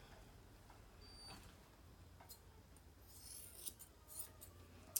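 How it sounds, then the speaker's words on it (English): Quiet, close snips of scissors trimming a puppy's fur, a few soft crisp cuts scattered over a hushed background, growing slightly more frequent toward the end. "you can finish up with your scissors"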